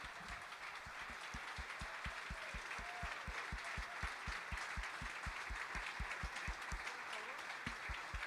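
An audience applauds both players after resignations at a six-board simultaneous chess exhibition with Magnus Carlsen. The ovation is dense and sustained, with regular low thumps underneath and faint voices in the crowd.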